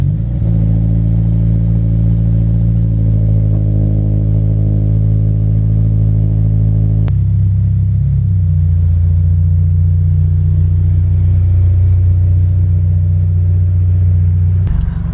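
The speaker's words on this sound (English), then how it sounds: "throw some fire in the engine of the FRS, get her loud, purring" A Toyota FRS sports car engine idling loudly, a steady deep rumble for the whole stretch with a brief blip in pitch midway, close and dominant with no talk.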